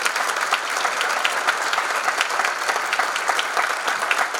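Steady applause from a concert audience for the young players of the Sociedad Filarmónica de Pedro Juan Caballero, dense and even throughout, no voices over it.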